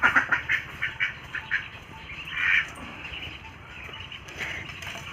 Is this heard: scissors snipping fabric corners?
no